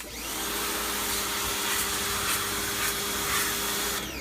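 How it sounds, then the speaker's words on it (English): A garden hose jet sprays debris and green muck out of a pleated pool cartridge filter, a steady loud broadband hiss and splatter running throughout. "And you're going to spray downward until most of this junk is out."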